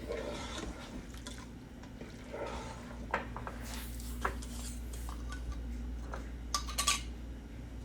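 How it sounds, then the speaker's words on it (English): Vegan cheese sauce and shredded cheese being stirred into macaroni, soft wet squelching with occasional sharp clinks of a utensil against the pot or bowl, close and fairly quiet. "Mix that up."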